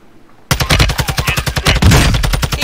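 Rapid, loud automatic gunfire in a shooter video game bursts in after a quiet moment, a steady rattling stream of close shots with a heavier cluster near the end.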